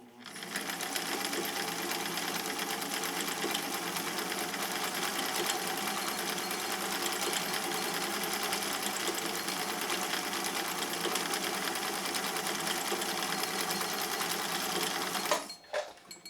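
A Cam-equipped sewing machine sews a decorative, ribbon-like stitch, running in one steady, loud mechanical whir for about fifteen seconds before stopping abruptly.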